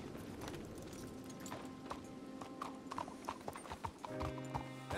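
Horse hooves clip-clop at a steady walking rhythm in Red Dead Redemption 2, fairly faint over an ambient outdoor background.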